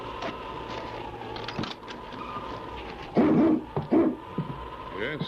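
Several huskies bark and whimper in short excited bursts close by, over a low rumbling background, in an old-time radio drama.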